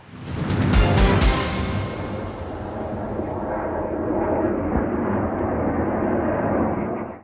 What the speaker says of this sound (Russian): Сирены, взрывы и паника в городе.